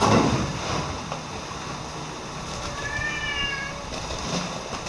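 A cat meows briefly over a steady background of noisy rumble and hiss, with no talking.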